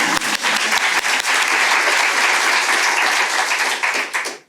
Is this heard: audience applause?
yes